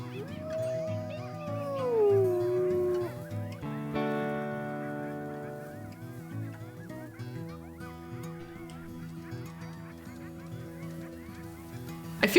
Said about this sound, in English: I'm hearing some howling.